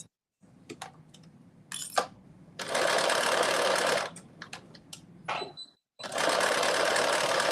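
Ruffles are sewn onto a kaftan on a sewing machine in short bursts of rapid stitching, broken by pauses and faint handling clicks, with two longer sustained runs near the end.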